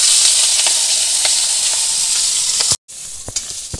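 Fish frying in hot oil in a kadai, a loud close steady sizzle with scattered crackles, briefly cut off for a moment and then resuming, with no talking.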